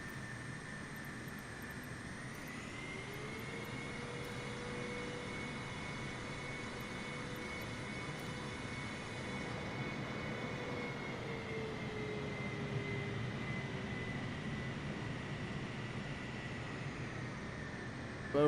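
Airliner engines idling as the plane taxis in a flight simulator: a steady, even whine over a broad hum that holds a constant level throughout, with no talking.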